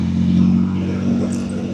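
A car rolls at low speed through downtown Winchester, Kentucky, its engine giving a steady close hum with a low tonal drone and light road rumble, plus a brief faint higher sound near the end.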